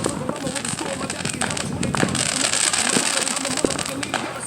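Small backyard fireworks show with rapid crackling bursts and pops going off continuously nearby, loud and dense, with people talking at points.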